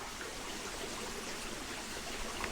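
A brook babbles downstream through autumn beech woodland, a soft, steady wash of flowing water heard from a distance, faint and unbroken with no voices.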